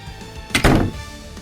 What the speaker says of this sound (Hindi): इस बार अनाया और समीर उसे फ्रिज में बंद कर देते हैं